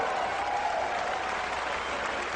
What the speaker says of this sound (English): And at the end of it, everybody breaks into applause.